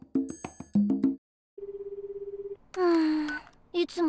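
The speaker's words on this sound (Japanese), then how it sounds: "よし、電話かけちゃおっと。" Anime-style phone call effect: a steady electronic ringing pulse in a rapid trill for about a second, set between chirpy cartoon voices speaking before and after.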